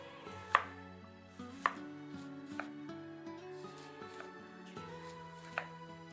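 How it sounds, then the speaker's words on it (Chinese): A knife chopping cabbage into thick shreds on a board, sharp separate cuts at an irregular pace, several distinct strikes against quieter slicing, close and fairly soft, no talking. "再把包菜切成粗粗的细丝，"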